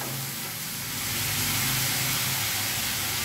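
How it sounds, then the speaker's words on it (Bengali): Broken wheat (daliya) frying in a pan for pulao gives off a loud, continuous sizzling hiss that swells slightly partway through and stays close. "ডালিয়াটা দিয়ে এবার আবার কিন্তু আমাকে ভালো করে ভাজতে হবে, জলটা যাতে একদম মরে যায়"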